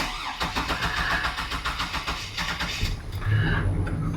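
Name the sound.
fuel-injected car engine cold starting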